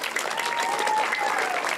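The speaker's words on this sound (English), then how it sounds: "Let's give her a big round of applause." A big round of applause from an audience at a community event in El Monte, steady dense clapping at an even level throughout, with faint crowd murmur beneath it.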